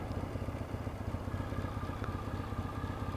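A Yamaha XS650 motorcycle fitted with louder pipes idles just under 1000 RPM, its twin-cylinder exhaust thumping in a steady, even pulse, close and moderately loud with no talk.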